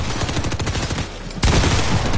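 Rapid automatic gunfire from a Fortnite match on PS5 rattles nonstop and loud, the shots growing heavier and denser near the end, with no talking.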